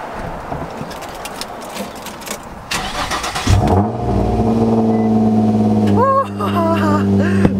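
A car with a newly installed Y-pipe exhaust runs amid background noise, then cranks and starts into a deep, steady idle with a couple of light blips. A voice is heard early on.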